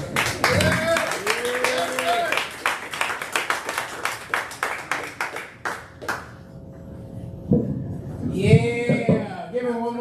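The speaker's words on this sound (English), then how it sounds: "give him one more round of applause" Small audience at an open mic night in a Delray coffee shop gives a round of scattered, close hand claps that thin out after several seconds, followed by someone talking.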